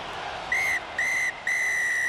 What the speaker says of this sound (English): the shrill and final blast of the afternoon from the much-used whistle